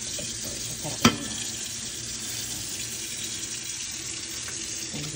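Running tap water streams steadily into a kitchen sink while dishes are washed by hand, with a sharp clatter of crockery early on and faint handling clinks throughout.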